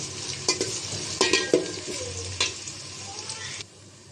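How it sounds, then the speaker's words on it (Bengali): Chopped onions with garlic and bay leaf sizzle and fry in oil in a cooking pot, with a steady crackling hiss broken by several sharp scraping stirs before the frying stops near the end. "পেঁয়াজটা ভেজে নিয়েছি।"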